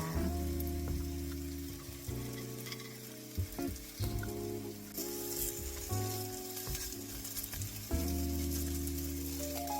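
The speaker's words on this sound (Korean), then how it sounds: "노릇노릇하게 구워지면 꺼내줍니다" Acorn pancake (dotori buchimgae) sizzling in a frying pan, a steady close crackle of oil bubbling with occasional spatters, alone without talk, while a low tonal hum runs underneath.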